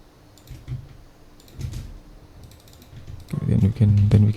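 A computer mouse clicks in quick pairs while someone works in SketchUp, the clicks faint and close in a quiet room, with louder low sounds near the end.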